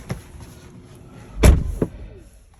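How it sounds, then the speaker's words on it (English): A Tesla Model Y car door swings shut with one solid thud close by, followed by a softer second click a moment later, set against a quiet cabin hum. "let me show you and close the door"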